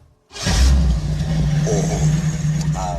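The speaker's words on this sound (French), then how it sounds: "Et moi, je peux écouter le moteur?" After a brief silence, an engine fires up with a loud burst and settles into a steady, throaty idle, nearby and continuous.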